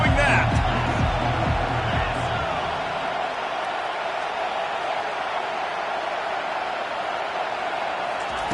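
A stadium crowd at an Ole Miss versus Washington college football game roars loudly, with rhythmic clapping or stomping early on before settling into a sustained wash of crowd noise.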